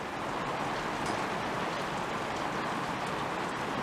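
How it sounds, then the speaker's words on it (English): Rain falls in the desert as a steady, dense hiss with no break, fairly quiet and heard alone. "we're getting some rain"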